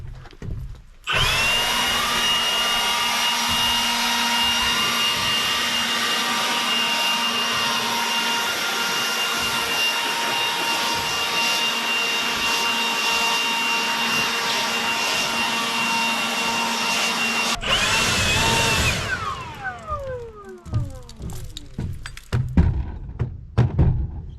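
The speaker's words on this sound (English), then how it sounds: "as you can see, cordless blower." Cordless leaf blower running steadily in a mountain off-grid building setting, a loud close whooshing whine held for about sixteen seconds, then surging briefly before spinning down with a falling tone into quiet clunks.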